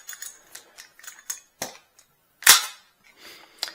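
A MAC-11 submachine gun fires blanks, with a run of quick rattling shots, a couple of separate cracks and one loud, close report, ending in a short burst.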